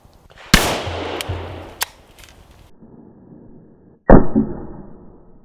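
Two sharp, loud rifle reports from a 7.62x39 rifle firing into a level III police body armor plate, the first followed by a few smaller cracks and echoes, then a second crack after a quiet pause.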